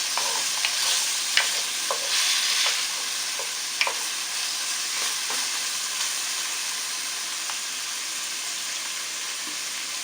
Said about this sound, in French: On va après bien préparer le fond du cocotte avec des tranches de lard